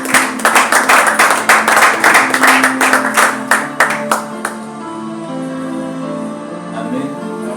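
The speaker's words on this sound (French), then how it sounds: "Est-ce que tu peux encore applaudir?" A church congregation claps in a steady rhythm for about four seconds, loud and close, then the clapping stops and sustained music carries on alone.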